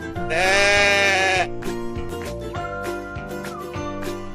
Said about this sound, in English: a baby goat is a kid.